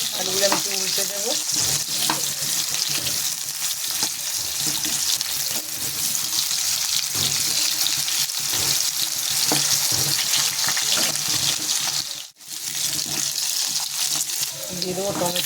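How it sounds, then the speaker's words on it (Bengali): Potatoes frying in a pan hiss steadily while a utensil repeatedly scrapes and turns them, giving a series of clattering strokes over the sizzle, with one brief drop in sound near the end. "আলুগুলো আমি একটু উল্টে দেবো।"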